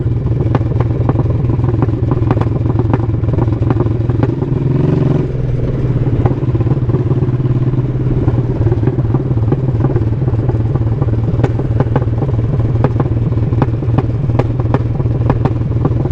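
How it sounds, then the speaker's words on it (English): Dirt bike engine running loud and steady up close, revving with a brief dip as the clutch is let out, rattly clatter throughout; no talking. "Let off the clutch too fast. You gonna tear this bike up."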